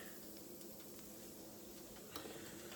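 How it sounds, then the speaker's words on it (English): Breaded baby back ribs deep frying in hot oil, a steady, even sizzle and fine crackle with occasional sharper pops. "We'll let this one fry for 10 minutes"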